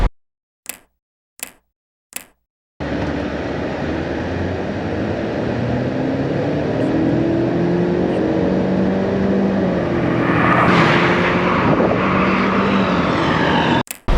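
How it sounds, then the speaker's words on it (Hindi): A few sharp clicks come first. Then a 2017 Honda Civic X 1.5 Turbo accelerates hard in a 0 to 100 test, its engine drone rising loud and continuous for about eleven seconds with no talk. "अभी आपको इसका 0 to 100 टेस्ट आपको दिखाते हैं कितने सेकेंड्स में ये कवर करती है 0 to 100"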